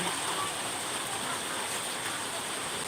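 Steady rain hisses continuously, a dense even wash of falling water with no pauses.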